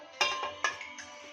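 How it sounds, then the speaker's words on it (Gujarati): A metal pan is set down on a kitchen gas stove with two clear clanks followed by a lighter clink, close and fairly quiet, with no speech. "એક પેન મૂકીશું."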